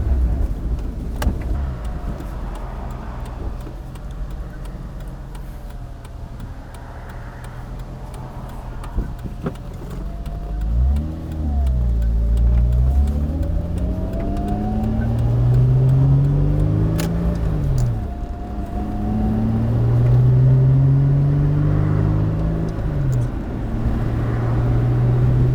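A Mazda Miata with a swapped-in Honda Odyssey engine warming up, idling with a low rumble, then revving in several rising and falling pulls, loud and close.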